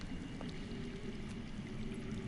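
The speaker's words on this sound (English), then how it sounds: "I hear water. From underground." Underground water in a Game of Thrones video game, a faint, steady low rush of flowing and pouring water heard alone and continuous throughout.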